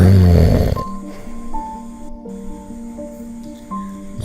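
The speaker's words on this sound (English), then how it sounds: "but the bear snores on" A loud, rumbling bear snore sound effect from a children's story opens the clip, a single deep snorting breath that fades, then gives way to soft sustained musical tones.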